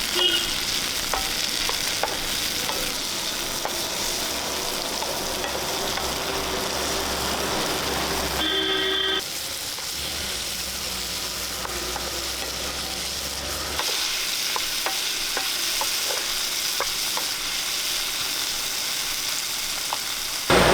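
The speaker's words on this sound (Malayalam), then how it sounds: "ഇനി നമുക്ക് ഇതിലേക്ക് രണ്ട് ചെറിയ തക്കാളി അരിഞ്ഞത് ഇട്ട് കൊടുക്കും ഇതും കൂടി ഇട്ട് നമുക്കൊന്ന് വഴറ്റാം" Two small chopped tomatoes sauté in a pan for a Kerala-style mackerel fish curry, crackling in a loud, steady sizzle with stirring scrapes, briefly dropping and changing character midway before resuming.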